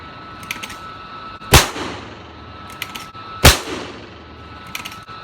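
Two loud, sharp rifle shots from a Rossi 92 lever-action firing Hornady 158 XTP handloads with Unique powder, a couple of seconds apart, each with a short echoing tail, between faint metallic clicks of cycling the action.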